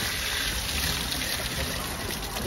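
Water gushing steadily out of a machine in a plywood factory, a loud continuous rushing wash with no pauses.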